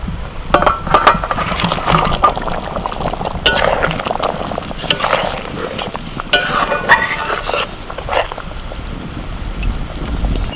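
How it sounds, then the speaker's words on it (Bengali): Fried chicken balls for malai kofta go into boiling gravy and are stirred, giving a steady bubbling, wet churning and occasional spoon knocks against the pot, close and fairly loud, with no talking. "গ্রেভিটা ফুটতে শুরু করেছে এবার ভাজা চিকেনের বলগুলো দিয়ে দিচ্ছি"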